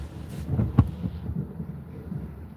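Rumbling thunder from a nearby thunderstorm, a low muffled roll with one sharper thud near the start that fades into a soft, drawn-out grumble, with no voices.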